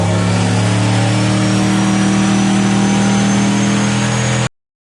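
A turbocharged small block Chevy V8 runs loud and close in a shop, holding a steady, throaty drone with a slight rise in pitch before cutting off abruptly near the end. No talking.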